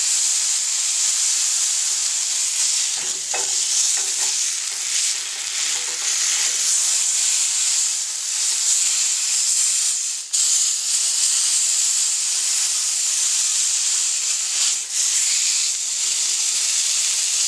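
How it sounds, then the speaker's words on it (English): A sirloin steak searing on its sides in a hot pan gives off a loud, continuous sizzle and hiss throughout, steady and close, with no voices. "with some of the remaining heat, I'm just going to sear the sides really quick"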